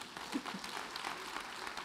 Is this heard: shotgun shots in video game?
no